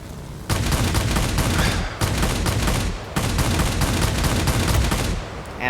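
Rapid, dense gunfire bursts from an 88 mm flak gun in a World War II flight combat game, loud and close, in three sustained volleys separated by brief pauses.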